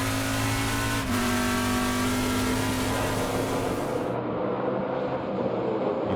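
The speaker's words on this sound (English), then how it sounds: "that's Tim Carroll with the blue and white Camaro going out, going a little bit deep" A blue and white Chevrolet Camaro Trans Am race car roars around Laguna Seca during a championship race, its engine loud and close with a shift in pitch, then the sound dulls as it moves away.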